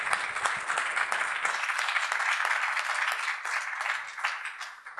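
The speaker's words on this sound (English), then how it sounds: "A big round of applause, please." Sustained audience applause fills a legal conference hall for an award presentation, a dense steady wash of many hands clapping at close range, continuing for the full stretch without speech.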